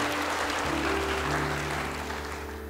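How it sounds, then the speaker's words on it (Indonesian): Church congregation applauding during a sermon, a steady, moderate wash of clapping with sustained tones, likely from an organ or keyboard, running underneath. "Yang mau beri tepuk tangan bagi dia."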